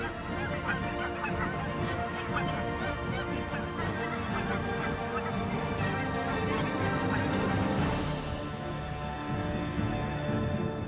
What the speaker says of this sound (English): The geese begin their escape to the south.